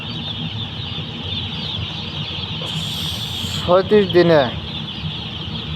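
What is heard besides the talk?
chickens clucking on a poultry farm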